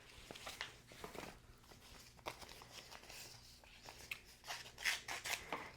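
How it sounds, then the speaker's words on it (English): Scissors cut kinesiology tape for a pregnancy belly-support taping, with several faint, close snipping and crinkling strokes spread across the clip and no talking. "So we'll just roughly kind of cut the tape here."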